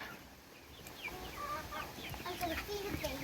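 Backyard chickens on an Australian urban farm cluck softly, with short repeated calls scattered over quiet outdoor background.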